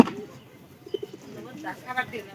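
Village pigeons coo in short, soft murmuring calls scattered through the stretch, fairly close, with faint background rustle and some low voices.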